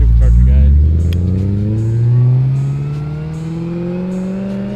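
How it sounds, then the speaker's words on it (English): Supercharged Scion FR-S engine revving hard then easing off, its whine sliding upward as the revs climb, close and loud, with voices talking over it. "Listen to this goddamn supercharger, guys."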